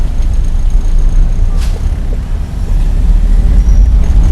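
A car engine on a driving lesson in Sylhet pulls steadily as the accelerator is pressed, a continuous low rumble with road noise and a brief hiss midway.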